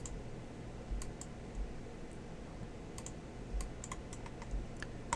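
Faint, scattered mouse clicks at irregular intervals while particles are placed one by one in Autodesk Maya 2015, set over a quiet room hum.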